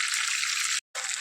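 Rava-coated prawns fry in hot oil with a bright, steady hiss and crackle that cuts out abruptly for a split second before resuming just as strong.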